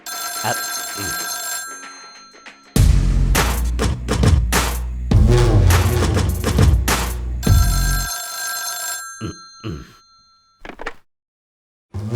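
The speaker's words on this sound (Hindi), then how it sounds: "फोन बज रहा है" A telephone rings in a repeating pattern, its ringing interrupted by a stretch of loud thumps and clatter before it resumes.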